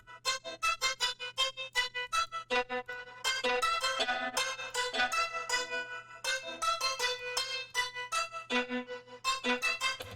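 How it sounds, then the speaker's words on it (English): A synth melody through a Fender Vibrolux tremolo effect, with a pulsing, wavering volume that throbs rapidly on each note, playing a continuous line over a low steady hum. "I want to add a tremolator, which is what I always do, and it makes it sound like this"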